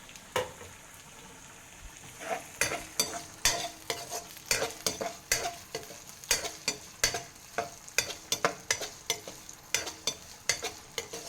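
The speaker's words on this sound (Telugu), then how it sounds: "క్యారెట్, అవి వేసుకొని కొద్దిసేపు కలుపుదాం." A spoon stirs carrots, onions and pasta in a non-stick pan, scraping in irregular, distinct strokes over a soft background sizzle, close and fairly quiet, with no voices.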